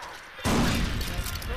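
A grenade blows up in Far Cry 4, a loud sudden blast after a quiet moment, followed by a sustained rumbling, crackling roar.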